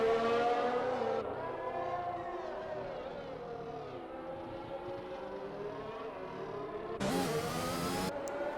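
Mercedes race cars scream around the Portimao circuit in a racing video game, a sustained, high-revving engine drone with shifting pitch, then a brief louder rush near the end.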